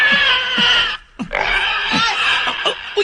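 A pig squeals and oinks repeatedly in loud, near, harmonic bursts, with a short pause in the middle.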